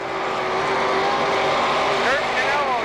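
Race cars lap Penn Can Speedway on the backstretch at a 1995 short-track event, their engines a steady roar with one rising pass near the end, under an announcer's voice.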